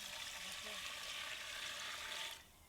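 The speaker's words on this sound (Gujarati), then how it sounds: "અને હું નાખીશ પાણી" Water pours steadily into a steamer pot set up for cooking khaman dhokla, a soft continuous splashing rush that cuts off near the end.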